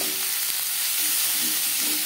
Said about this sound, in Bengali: মাছ ভেজে নেওয়া তেলে দিয়ে দেবো পেঁয়াজ কুচি। আর লাগছে টুকরো করে নেওয়া টমেটো।